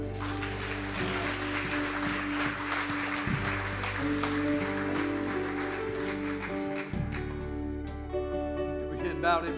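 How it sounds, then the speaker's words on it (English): A church congregation claps in praise during a Sunday morning service, a steady broadband patter over sustained organ or keyboard tones, fairly loud and continuous throughout. "Just give the Lord a praise clap this morning."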